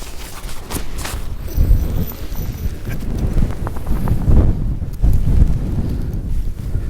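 Gusty wind at a campsite buffets the microphone in low, rumbling surges, with a few knocking and tapping sounds mixed in.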